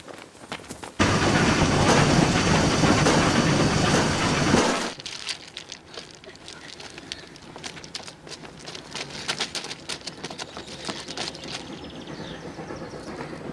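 A steam train approaches, arriving as a loud, dense roaring rush that holds for several seconds, then drops to a quieter clattering rattle as it carries on past.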